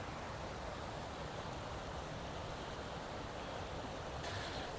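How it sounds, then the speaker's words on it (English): A river pours into a reservoir with a good strong flow, producing a steady, even hiss of rushing water at close range, uniform throughout with no voices. "there's a good flow here into the reservoir, so hopefully you can hear me with the noise of the river"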